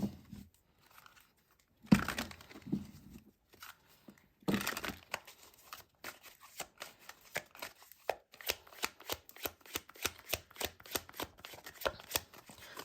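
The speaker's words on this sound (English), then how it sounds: "So let's go ahead and pull an astrology card out here." Astrology cards being shuffled by hand, with quiet scattered riffles followed by a rapid, rhythmic run of soft, close card flicks, no voices.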